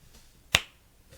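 A single sharp finger snap lands mid-clip against near silence, performed during a close-up card trick.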